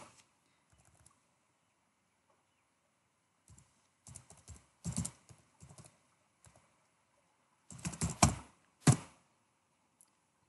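Computer keyboard typing in short, sparse bursts of quick clicks separated by silent pauses, close and fairly quiet, with no voices.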